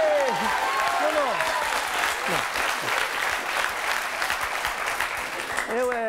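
Steady applause from a group of people claps on for several seconds, with voices speaking over it throughout.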